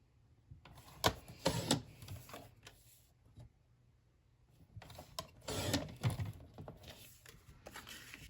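Scrap paper being cut down for a baby mini album, with two bursts of crisp cutting and slicing sounds separated by a quiet pause, close and moderately loud.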